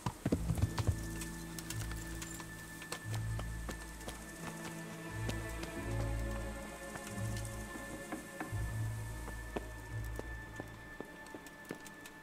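A horse's hooves clip-clop at a steady walking pace in the rain in the video game Kingdom Come: Deliverance, close and clear over a low hum with faint rain patter.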